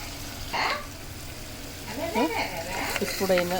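Goat head curry sizzles and bubbles in hot oil, a steady frying hiss with stirring scrapes, while someone talks over it now and then.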